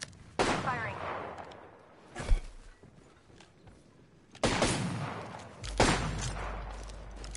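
Gunfire in the battle royale video game Apex Legends: a few sharp, heavy shots and bursts with pauses between them, loud and close, followed by a low rumble and no voices.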